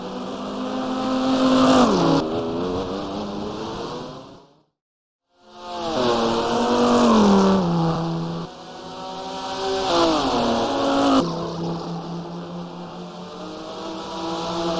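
Race car engine in GT Racing 2002 at Spa, loud and close, climbing through the revs with sharp drops at each gear change, cutting out briefly before accelerating hard again through more upshifts.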